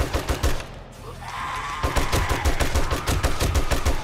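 Rapid automatic gunfire from a video game, with dense bursts of shots in steady rhythm, close and loud, continuing through most of the stretch after a brief lull.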